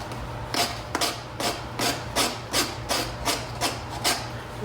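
A coarse rasp file shaping a wooden spoon, with about ten regular rasping strokes in steady rhythm, each a short broadband scrape, close and moderately loud with no talking.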